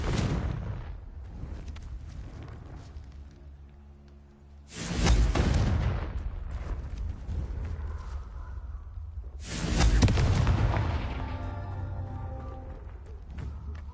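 Confringo fire spell explosions in the video game Hogwarts Legacy: two loud, booming blasts several seconds apart, each with a sharp onset and a rumbling tail over a quieter game backdrop.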